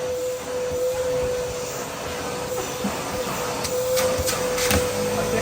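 A small wet-and-dry blower vacuum of the kind used at car washes runs steadily and loudly nearby, with a constant motor whine and a few brief clicks near the end.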